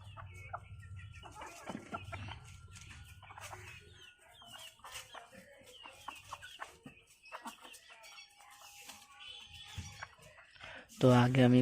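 A white hen clucks in short, soft bursts close by in a home yard while a person talks nearby, and a sudden louder flurry of fowl sounds breaks out at the end.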